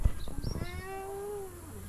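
A cat meows in a tourist area of Jiufen, Taiwan, with one long drawn-out tonal meow after some shorter rustling sounds, close and clear over quiet background.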